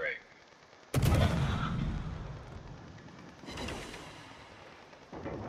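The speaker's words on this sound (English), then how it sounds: "the guns on the Smallland are really great" Heavy ship guns fire in a naval combat video game, one loud booming salvo followed by a long rumbling decay, with a second softer blast and another shot starting near the end.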